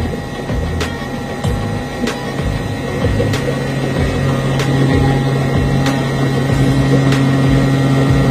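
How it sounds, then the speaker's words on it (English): A second pump runs steadily on a test bench with a constant loud mechanical hum and tonal whine, punctuated by sharp periodic clicks about once a second. "Now we text the pump two."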